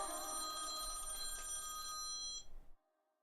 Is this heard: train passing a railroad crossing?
no